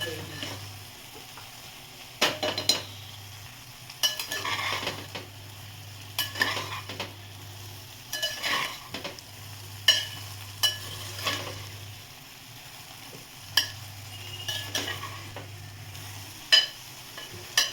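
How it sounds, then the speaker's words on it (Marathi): Stuffed ridge gourd being gently sautéed in a pan, with repeated spatula scrapes and taps recurring every second or two over a low sizzle and a steady hum, close and fairly quiet. "हे आता ना आपल्याला एकदम हलक्या हाताने आहे ना चांगले परतून घ्यायचे"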